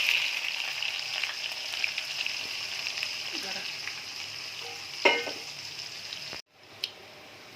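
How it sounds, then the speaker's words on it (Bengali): Chopped onions fry in hot oil tempered with cumin and bay leaf in a home kitchen. A steady close sizzle carries a few stirring clicks, then cuts off abruptly near the end. "আমি যখন পেঁয়াজটা ভাজতে দিয়েছিলাম"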